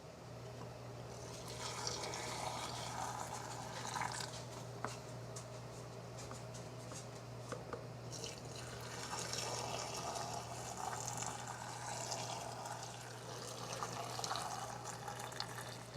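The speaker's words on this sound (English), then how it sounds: "Okay, so I'll grab our pickling liquid, and we'll pour that into, divide it into each of the jars." Pickling liquid is poured from a container into pint jars of peppers, a faint, steady trickle and splash under a constant low electrical hum, with no talking.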